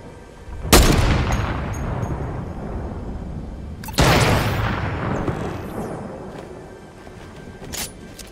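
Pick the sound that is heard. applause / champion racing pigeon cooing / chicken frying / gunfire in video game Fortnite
gunfire in video game Fortnite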